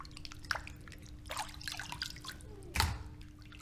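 Pork belly rinsed in a basin of clean water gives soft drips and small splashes, scattered and faint, with one sharper slosh near the end.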